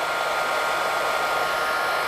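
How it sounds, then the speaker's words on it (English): A hairdryer set to high heat and powered by an EcoFlow River Pro portable power station blows with a loud, steady fan-and-air roar that holds constant with no pauses and no talking. "we can turn the heat up to high, and can you hear the fan go down? That is because it's bumping the wattage up to actually run the hairdryer"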